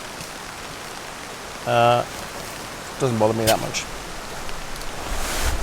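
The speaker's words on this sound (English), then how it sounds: "It's just started raining again." Steady broadband patter of rain falling on a tent and tarp at a wet campsite, a constant soft hiss through the whole stretch, with someone speaking briefly twice over it.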